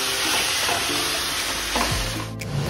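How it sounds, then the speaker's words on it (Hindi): Tomatoes and onions fry in hot oil in a pan for a bhindi recipe, a loud continuous close sizzle with faint stirring scrapes and no talk. "अब हमने टमाटर और प्याज इसमें डाल दिए, भुनेंगे हम इन्हें अच्छी तरह"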